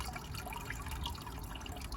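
Water trickling and dripping as it drains out of the air filter housing of a Land Rover Freelander 2, a steady close liquid patter running continuously for a couple of seconds.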